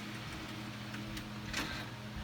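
A large printer runs steadily with a low hum and faint mechanical ticks and clicks, plus a few brief sharper whirs, all at a moderate, unchanging level.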